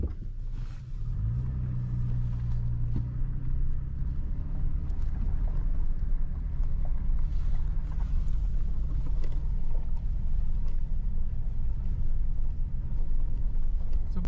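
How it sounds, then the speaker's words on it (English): A truck engine grinds along in low gear on a game lands road in Berks and Schuylkill County, a steady, loud, close-up rumble that holds without a break for the whole stretch, with no talking. "we're definitely going to put the truck in low gear"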